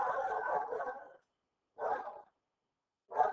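A dog barks in three separate bursts from inside a home, the first one longer and the next two shorter, with silent gaps between them and no one speaking.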